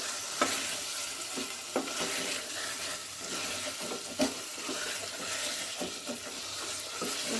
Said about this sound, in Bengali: ভাজা জিরে গুঁড়ো দিয়ে আমি আবারও কষাচ্ছি।